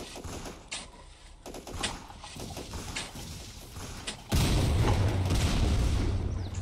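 Heavy incoming gunfire and blasts in a multiplayer shooter battle for a flag, with scattered sharp reports that swell into a loud, continuous rumbling barrage for the last two seconds.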